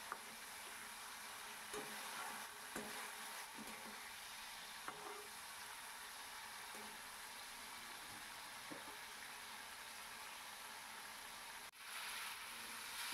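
Potatoes and lentil bori being sautéed with spices in a pan, a steady soft sizzle with occasional faint stirring clinks, quiet and continuous throughout.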